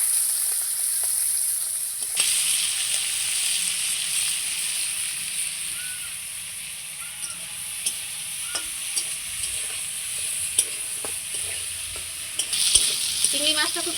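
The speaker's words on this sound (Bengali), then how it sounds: "এবার মাছগুলো ভেজে নেব।" Prawns coated in salt and turmeric fry in hot oil, giving a continuous close sizzle with occasional clicks and scrapes of stirring and a brief louder burst near the end.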